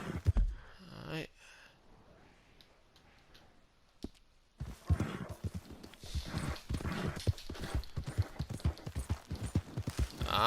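Horse hooves clip-clop in a steady walking rhythm in Red Dead Redemption 2, close and fairly loud, with game voices talking over the hoofbeats near the start.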